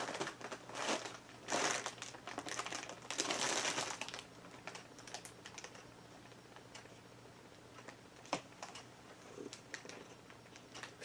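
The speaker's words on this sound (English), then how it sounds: "She sat on my paper plate." A cat settling onto an empty paper plate makes crisp, irregular crinkling and crackling, loudest in the first few seconds, then thinner scattered rustles and ticks fading toward the end.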